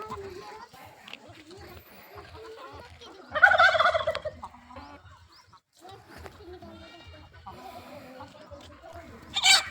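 Country chickens cluck and squawk in short bursts, one loud flurry in the middle and another at the end, with people talking throughout.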